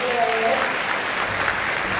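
Applause from a gathered audience at a speaking event, a short burst of clapping with a voice briefly heard over it.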